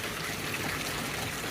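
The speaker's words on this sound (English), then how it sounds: "I'm pumping water into this little plastic pond." A pump pours water into a small plastic garden pond, giving a steady, continuous gushing splash that stays close and even throughout.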